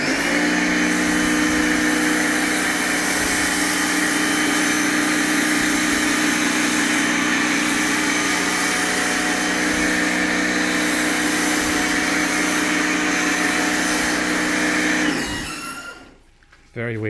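Pressure washer spraying snow foam over a Diablo tweaked Rebel 500 motorcycle, a loud steady motorised hiss and drone running continuously up close before cutting out near the end.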